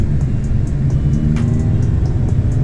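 Honda Civic EF three-door hatchback cruising at steady speed, a continuous low engine and road rumble heard from inside the cabin, smooth and fairly quiet with no talk.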